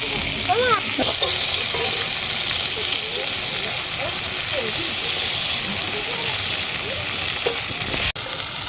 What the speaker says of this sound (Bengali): এই ভর্তাটার জন্য কিন্তু কুমড়োটা কিন্তু হালকা করে ভাজতে হবে